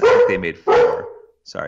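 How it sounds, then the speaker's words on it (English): A dog barks in the background in a few quick yips and bow-wows, mixed in with someone speaking over it. "if you hear a dog barking in the background,"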